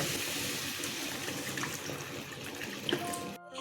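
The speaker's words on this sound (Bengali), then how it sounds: "এবার আমি এখানে একটু জল অ্যাড করে দেব" Water poured into a pan of softened, salted onions while cooking egg shahi korma; a quiet continuous pouring and splashing, fairly close, ending abruptly.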